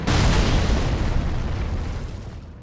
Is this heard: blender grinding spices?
no